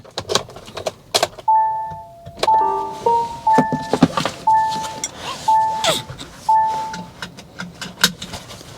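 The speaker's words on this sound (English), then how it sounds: "let's switch on the vehicle again." A 2023 Kia Niro HEV hybrid is switched on from inside the cabin, giving a series of clear electronic start-up chimes and tones amid small clicks and cabin handling noises.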